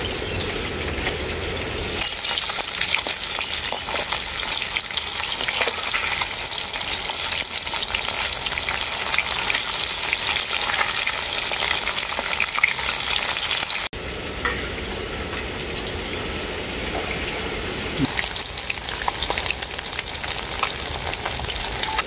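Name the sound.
bata fish frying in a pan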